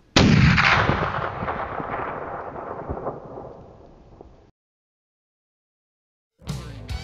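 A single loud hunting rifle shot cracks out during a hunting season outing, rolling away in a long echoing boom that decays over several seconds before silence.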